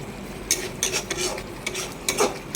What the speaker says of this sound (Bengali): এখন একটু হাই ফ্লেম করে দিলাম, মশলাটা কষে যাচ্ছে